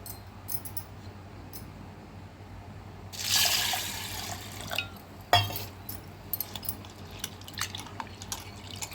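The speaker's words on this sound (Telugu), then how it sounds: "ఒక కప్పు కందిపప్పు అనేది తీసుకుందాం ఇది శుభ్రంగా రెండు మూడు సార్లు వాష్ చేసుకుందామండి" Water sloshes and trickles briefly as pigeon pea lentils are washed in a container, followed by a few faint clinks and drips in a quiet room.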